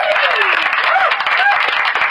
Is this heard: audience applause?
yes